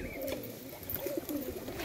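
Pigeons coo in a village loft, low burbling calls coming in short bursts over a noisy background, moderately close but not loud, without talk.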